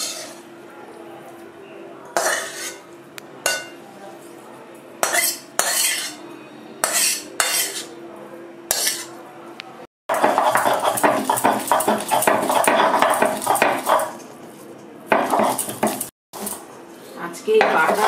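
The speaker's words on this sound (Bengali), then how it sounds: "শিল নোড়ায় বেটে নেব।" Bottle gourd leaves and garlic are ground on a stone slab with a shil nora: separate knocking strokes at first, then a long, dense stretch of continuous rough grinding and a few more strokes.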